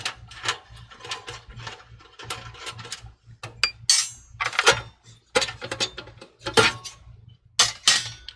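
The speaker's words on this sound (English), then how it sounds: "Remove that screw." A screw comes out of an HP TE01 desktop computer with a series of close metallic clicks, scrapes and taps from a screwdriver against the steel case, in irregular bursts with short pauses.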